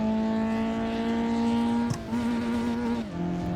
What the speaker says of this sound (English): If I hold the clutch, we can accelerate much faster.